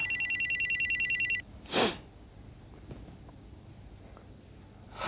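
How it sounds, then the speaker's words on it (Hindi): A telephone rings loudly with a rapid electronic trill for over a second, then stops; a sniff and quiet room noise follow. "फोन बज रहा है, फोन उठाओ।"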